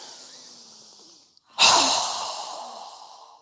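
A single strong breath forced out in yoga practice, a sudden loud rushing exhale that follows a short pause and tails off slowly over a couple of seconds.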